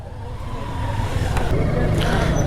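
Jammed road traffic in Rangpur city, a car engine idling and rumbling close by with low revving and passing vehicle noise, a brief horn-like tone near the end.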